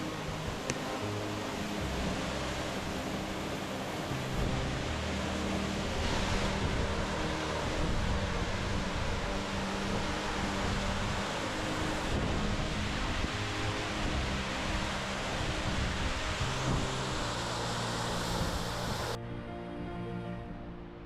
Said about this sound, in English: a very tall, spectacular waterfall that, when you get close, is very, very windy